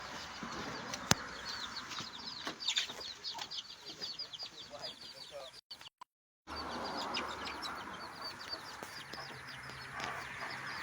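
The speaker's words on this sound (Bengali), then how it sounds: "ডিম পারবে বললে করকরাইতেছে।" Hens cluck and cackle at a Bangladeshi village home, a steady run of short clucks with a few louder calls over rustling yard noise, broken by a brief dropout.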